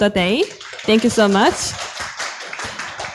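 A conference audience breaks into applause at the close of a session. Brief, scattered clapping follows a voice speaking, and the clapping then continues on its own.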